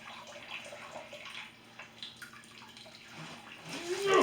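Water runs and splashes in a sink as dyed UCP camo fabric is rinsed, a soft, uneven trickle growing louder toward the end.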